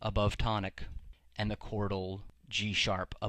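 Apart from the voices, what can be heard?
No everyday noises stand out.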